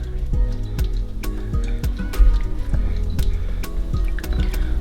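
Hot water poured into a pot of cut yam pieces for yam porridge, a steady close liquid trickle with repeated soft drips and splashes running the whole time, no talk.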